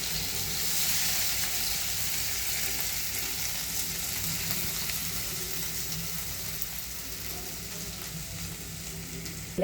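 Mashed boiled potatoes dropped into hot oil with mustard seeds, giving a steady, loud sizzle and frying hiss that holds throughout with soft stirring scrapes underneath.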